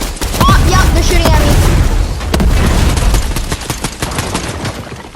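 Loud, dense gunfire from the Fortnite video game: rapid overlapping shots and booming impacts in a continuous barrage, with scattered single cracks trailing off toward the end.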